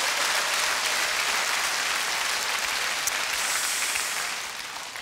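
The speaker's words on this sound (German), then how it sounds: "Vielen Dank für diesen freundlichen, netten, frenetischen Applaus" Audience applause for a German stage comedian, broad sustained clapping from a full house that stays loud and dense throughout, easing off slightly at the very end, with no voices on top.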